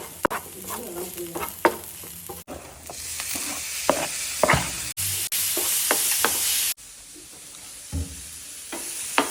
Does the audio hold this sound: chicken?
no